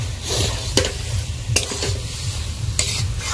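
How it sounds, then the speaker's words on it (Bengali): Boiled vegetables sautéed in a pan for a home-style Indian khichri, a steady sizzle under a few sharp scrapes of the stirring spoon against the pan, close and with no voices. "এখন আমি এখানে সিদ্ধ করে এবং কষিয়ে নিচ্ছি ভালো করে"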